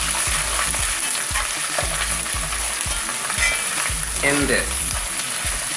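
Tomato paste cooks in hot oil, crackling and hissing close up, with rhythmic low stirring thumps and scrapes repeating roughly every half second and a brief spoken phrase.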